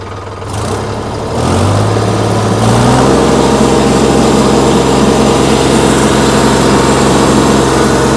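A tractor engine revs up in stages toward about 2,900 RPM, climbing in pitch and loudness to a sustained, roaring high-rev drone, loud and close.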